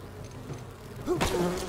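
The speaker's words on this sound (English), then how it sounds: "Oh no! The bees!" Bees drone in the video game Enshrouded, a steady insect hum under game ambience that swells sharply louder near the end as a swarm closes in, with no talking.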